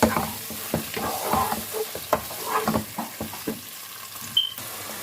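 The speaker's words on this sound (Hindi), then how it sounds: "अब कीमे को अच्छे से फ्राई करेंगे।" Minced meat (keema) frying with browned onions in a pan, with a soft sizzle and irregular scraping stir strokes, fairly quiet and with no talking.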